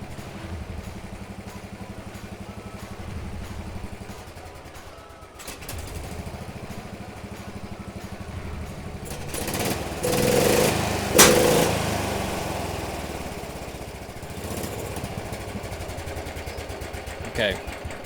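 A homemade race lawn mower engine runs in a rough, uneven drone. It surges louder around the middle, with sharp backfire pops and clatter, then settles back toward a steadier running note.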